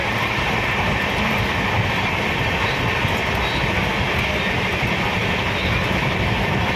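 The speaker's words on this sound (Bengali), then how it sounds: "আর আমাদের ট্রেন এখন ছুটে চলেছে হরিয়ানা রাজ্যের মধ্যে দিয়ে।" Passenger train on the Delhi to Ajmer route running fast through Haryana, a loud, steady, enveloping rumble and roar of the carriage in motion throughout, with no pauses.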